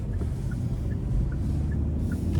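A 2025 Hyundai Sonata SEL Convenience with a naturally aspirated 2.5-liter four-cylinder on the road, heard from inside as a soft, steady low rumble of engine and tires.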